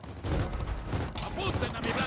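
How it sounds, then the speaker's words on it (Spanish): Video game gunfire crackles in a rapid, evenly spaced series of sharp shots in the later half of the clip, over a background of game noise and a voice talking. "Unos balazos."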